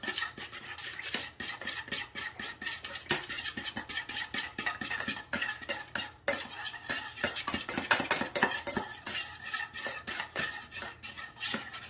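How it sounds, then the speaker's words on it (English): A spoon stirs honey mustard salad dressing in a bowl, giving a steady run of quick scraping, clinking strokes close up with no talking. "Let's grab a spoon here. We're gonna give this a nice mix."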